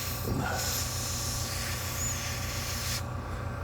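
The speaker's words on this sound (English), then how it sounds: "I'm going to go ahead and hook this airbrush up" Airbrush spraying color leveling thinner, a steady soft hiss of air and mist for about two and a half seconds, fairly quiet and close, stopping abruptly.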